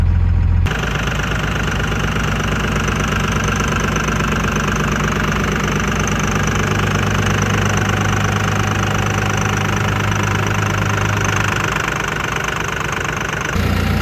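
A car engine idles roughly up close, a loud, continuous mechanical drone with an uneven, knocking texture that holds for about thirteen seconds before cutting off abruptly, with no one talking.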